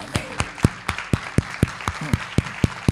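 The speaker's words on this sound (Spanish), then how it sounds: "Que le das un fuerte aplauso" A few people clapping in a slow, regular unison beat at a church service, about four claps per second, sharp and fairly close, steady across the whole stretch.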